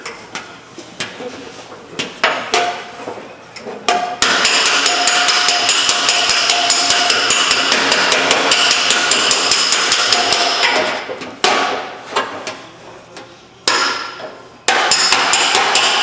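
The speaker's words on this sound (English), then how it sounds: "work that dolly back and forth as I'm planishing that metal" Rapid, steady hammer blows ring out while planishing dented sheet metal on a dolly for several seconds at a time, a dense metallic tapping broken by a few short pauses.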